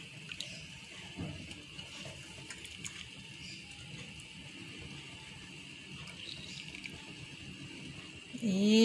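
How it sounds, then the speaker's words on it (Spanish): Cooked potatoes for causa rellena being strained through a colander, liquid trickling and draining in a steady soft wash, ending with a louder splash of pouring. "Sigue cayendo todavía el líquido."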